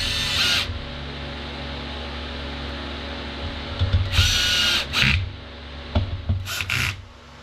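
A power tool drives two small screws into a Stihl 029 Super chainsaw during assembly, heard as several short whirring bursts over a steady low background hum, close by with no talking.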